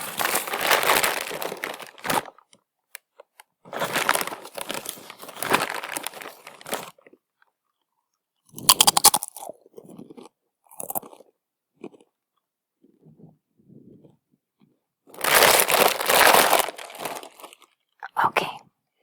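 Someone eats a crunchy snack close to the mic in several loud bursts of crunching and chewing, separated by quiet pauses with softer munching.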